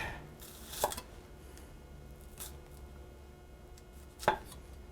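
Knife chopping shallots thin on a cutting board, a few sparse, quiet cuts spread across the stretch with soft background hum and no talk.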